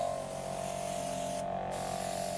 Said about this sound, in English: So it gets a bit noisy with the compressor